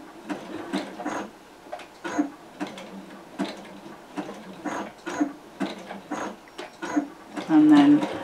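A sewing machine runs in short bursts of a few stitches, rhythmic mechanical clatter pivoting around a curve on a spooky door wreath project, close and moderately loud, alternating with a person talking.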